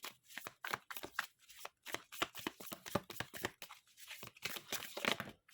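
Tarot cards being shuffled and drawn, producing rapid bursts of crisp riffling and flicking with short pauses, close and quiet, no voices.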